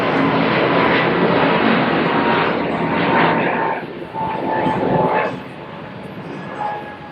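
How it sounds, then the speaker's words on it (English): A propeller airplane passes overhead near a home office, a loud broadband engine roar that holds steady for several seconds, then eases and fades as it moves away. "And here comes another plane."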